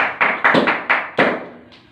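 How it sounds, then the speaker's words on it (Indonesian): Applause in a classroom for a student: about half a dozen sharp, close hand claps in quick succession, fading out within two seconds with no talking. "Tepuk tangan dulu untuk Wildan."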